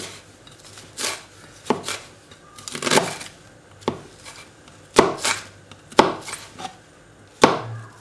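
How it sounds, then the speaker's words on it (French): A knife chops leeks on a cutting board, cutting the white parts into strips. Crisp, irregular knocks of the blade hitting the board come close and loud in uneven bursts, with no talking. "je vais couper le blanc en tronçons d'environ 5 cm, le fendre en deux et ensuite émincer finement"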